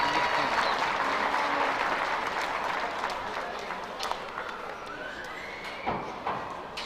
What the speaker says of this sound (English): Let's give these exhibitors a round of applause as they exit the ring.